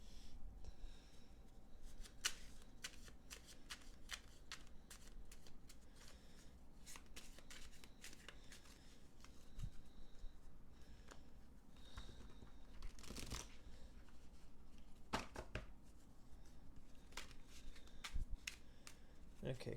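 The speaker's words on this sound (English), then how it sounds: "Can shuffle this one." Repeated riffle shuffles of Battlestar Galactica board game crisis cards come as sharp papery bursts at irregular intervals, close and quiet, over light room tone.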